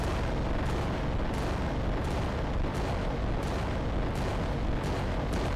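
Massive Titan weapons in Adeptus Titanicus Dominus pounding away under a constant roar of battle, with heavy booms and bursts landing every second or so over a dense, rumbling background.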